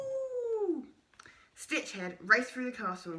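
A human voice imitates a werewolf-like creature's growl with a falling, drawn-out howl. A pause follows, then a person reads aloud.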